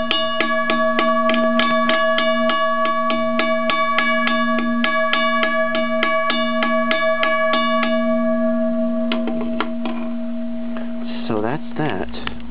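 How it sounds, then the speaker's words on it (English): A WCH Model 333 railroad crossing bell rings loud and close with a steady, rapid stream of bright metallic strikes for about eight seconds. It then dies away, followed by a few brief, softer sounds. "This is my WCH bell. Sounds more like a WRS bell."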